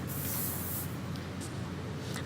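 Hair spray misted onto styled, pinned-up hair during a beauty makeover: a steady close hiss, then a few short, quieter puffs, with no talking.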